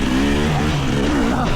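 GasGas EC300 two-stroke dirt bike engine revving loudly up close, a raspy buzzing tone that rises and dips through short throttle blips, continuous and dominant throughout.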